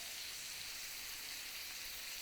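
A beef fillet, just turned, sears in a hot pan with thyme sprigs, giving a steady, dense, close sizzle with no pauses.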